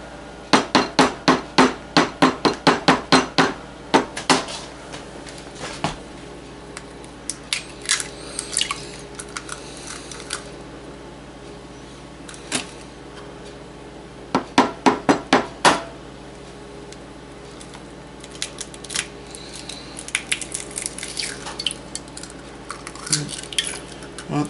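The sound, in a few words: cracking eggs into a bowl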